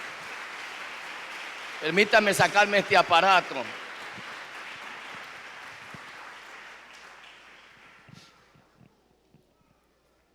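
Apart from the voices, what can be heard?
congregation applause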